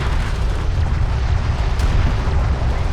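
Mortar explosions in the strategy video game Homeworld: Deserts of Kharak, a dense, continuous rumble of booming blasts that overlap into one heavy low roar with no clear gaps.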